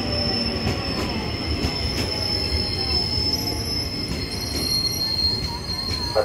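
A twelve-car KRL commuter train pulls into Manggarai station, its wheels squealing with a high, sustained whine over rumbling rail noise and rhythmic clicks, close and loud throughout.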